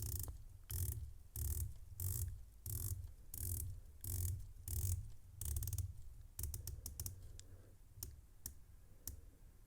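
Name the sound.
watch coin bezel rotating with click action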